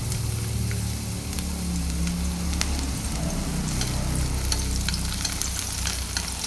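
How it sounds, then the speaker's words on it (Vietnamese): Chopped shallots fry in hot cooking oil, giving a loud, dense, continuous sizzle and crackle close by with no talking. "Khi dầu nóng cho một ít đầu hành đã cắt nhỏ vào"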